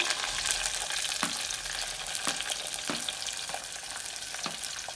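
Garlic, shallots and green chili fry in coconut oil for a Kerala lunch dish, giving a soft steady sizzle broken by evenly spaced stirring scrapes and taps against the pan.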